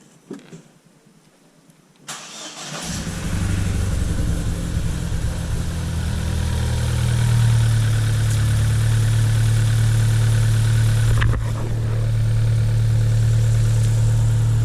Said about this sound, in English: So I'll start the car up for you.